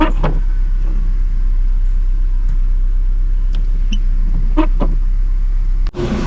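A car interior while driving through heavy rain in Santo Domingo, a constant low engine and road rumble with a steady hiss, faint scattered knocks and a sharp thump near the end; nobody speaks.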